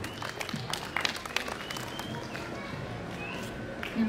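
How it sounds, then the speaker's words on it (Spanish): Wedding guests applaud a speaker at a reception hall, a steady wash of many clapping hands at moderate distance, continuous through the whole stretch with no talk over it. "Aquí recibimos con fuertes aplausos, por favor."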